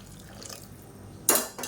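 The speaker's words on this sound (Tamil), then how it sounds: "இப்போ இதில் வந்து நல்லா ஒரு இரநூத்தி ஐம்பது எம்எல் அளவுக்கு தண்ணி சேர்த்துக்கலாம்" Water, about 250 ml, is poured into a cooking pot of radish and lentil-ball kuzhambu, a brief splashing burst near the end that follows a quiet stretch of faint kitchen clatter.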